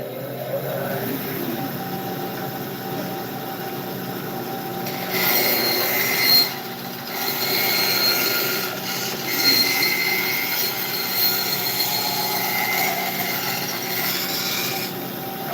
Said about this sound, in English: I'm over here at the bandsaw real quick